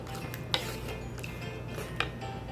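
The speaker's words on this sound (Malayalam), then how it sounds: "ഇതൊന്ന് നല്ലോണം ഇളക്കി കൊടുത്തിട്ട് നമുക്ക് ഇനി അടച്ചു വെക്കുകയാണ് ചെയ്യണം" Stirring in a pan of Kerala-style mutton varattiyathu with crushed shallots, a low steady cooking hiss broken by two sharp metallic clinks of spoon or lid against the pot, no speech.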